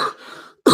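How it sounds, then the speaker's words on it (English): A single rough throat clearing and cough from a person with a lingering cough, close and fairly loud, breaking off into a brief pause before a second harsh burst. "I cannot shake this cough."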